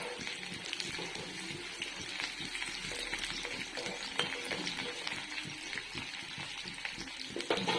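Onions stirred in a cooking pan until browning, with a steady sizzling hiss and scraping stirs running throughout at moderate level, no talking.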